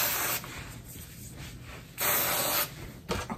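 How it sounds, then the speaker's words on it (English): Aerosol deodorant spraying in two short hissing bursts, close by, with a sharp pause between them and a brief rustle at the end. "Put my deodorant on."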